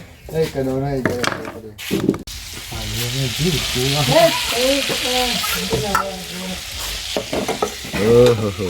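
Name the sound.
butter sizzling in a kadai for burgers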